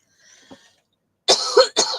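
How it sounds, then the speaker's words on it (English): Two quick, sharp coughs close to the microphone, preceded by a faint murmur. "excuse me, with that little bit of a cough there"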